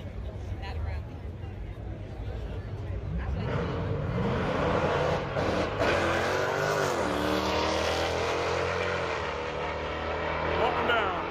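Dodge Hellcat drag racing at Texas Motorplex, a loud roaring engine rising in pitch as the car launches and pulls away down the strip, with crowd chatter and voices over it.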